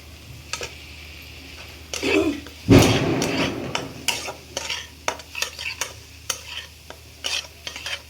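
A spoon scraping and clinking as turmeric, coriander and cumin powders are stirred into tomatoes frying with chillies in a pan for paneer ghotala, with repeated, irregular strokes over a soft sizzle.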